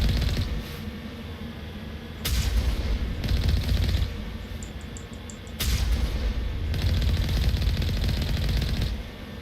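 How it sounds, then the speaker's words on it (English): Mako tank cannon from Mass Effect 1 fires in sustained, rapid bursts that sound loud and close, with sharp surges at about two and five seconds over a steady rattling barrage. "I'm wondering if they fixed anything with the Mako at all, besides the sound effects the gun gives"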